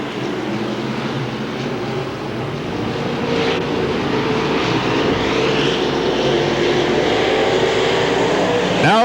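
Stock cars racing at Hamilton County Speedway in the 1993 Winston 50 make a continuous, loud engine roar that swells slightly as the pack passes close by, with no talk over it.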